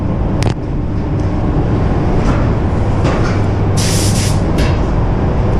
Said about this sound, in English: I'm always spraying the primer from the inside and out